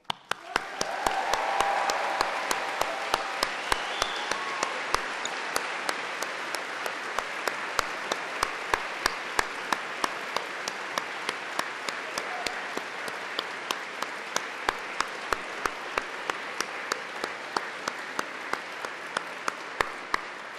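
A graduation audience at Cardiff University applauds and cheers together, a dense, continuous roar of clapping that swells early and holds steady, with crisp individual claps standing out throughout.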